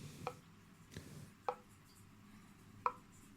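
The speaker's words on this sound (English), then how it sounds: "I've got a tap dripping 24/7, as you can hear" A household tap dripping water nonstop, a few distinct sharp drips spaced about a second apart, close and fairly quiet over a low background hum.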